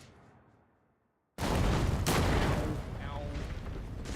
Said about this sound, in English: Ow. Explosion.